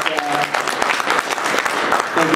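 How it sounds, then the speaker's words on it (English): Panel audience at a MAGFest convention Q&A applauding, a dense steady patter of many hands under a couple of overlapping voices, sustained through the short stretch. "round of applause for the audience for coming out"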